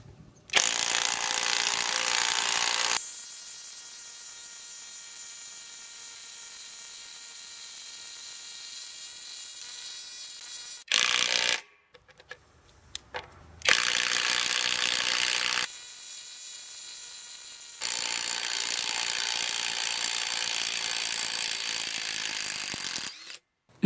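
Ferrex Pro 350 Nm brushless impact wrench fitted with a 22 mm chrome-molybdenum socket, running in long steady high-pitched bursts with brief stops between, loud and close, no voices.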